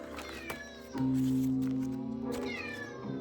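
A cat meows loudly and close by in a long, drawn-out call of about a second, followed by a second shorter meow, with background noise underneath.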